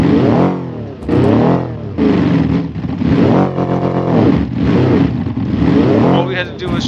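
A sports car engine in BeamNG revs hard in repeated loud surges, climbing and dropping in pitch over several seconds.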